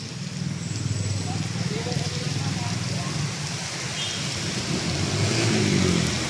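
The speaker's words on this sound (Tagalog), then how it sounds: "Tapos ayan, biglang buhos." Heavy downpour on Holy Wednesday, the rain a steady broadband roar that builds slightly toward the end, with a low rumble beneath that could be distant thunder or passing traffic.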